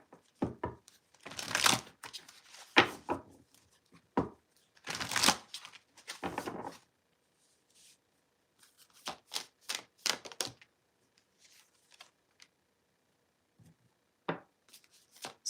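Oracle cards from an Earth and Bone Oracle deck being shuffled by hand, giving bursts of dry papery riffling and tapping in several close, irregular clusters separated by short pauses, with no talking.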